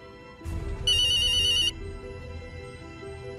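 A ringtone from an anime scene in a JoJo's Bizarre Adventure episode rings once in a short, loud electronic burst over low background noise.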